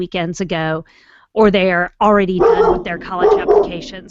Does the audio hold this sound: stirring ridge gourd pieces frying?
no